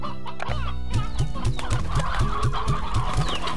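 Chickens in the game Slime Rancher cluck in a quick regular series of close, loud calls over a steady musical background.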